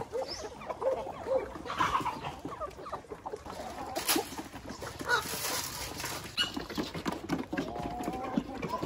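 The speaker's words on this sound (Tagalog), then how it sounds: "Dito naman tayo sa ating breeding pen number 2, ang ating mga black Australorps." Black Australorp chickens in a breeding pen cluck and stir nearby, with wing flaps and scuffling among birds, while a person talks over the flock.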